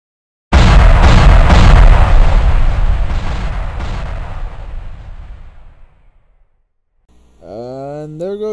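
Cannons fire in the video game Blood Bowl 2: a loud cluster of booming blasts at the start, rolling and fading over several seconds, then a brief quiet before a voice speaks.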